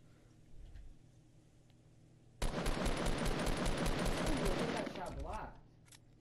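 A sustained burst of rapid automatic gunfire in Fortnite, loud and close, starting abruptly and rattling steadily for about three seconds over quiet game ambience before tapering off.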